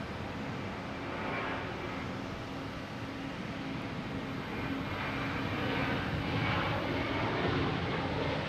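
American Airlines flight 418 bound for Charlotte, a jet airliner at Boston Logan, gives a steady broadband engine roar that holds at moderate distance and swells slightly toward the end, with no talk.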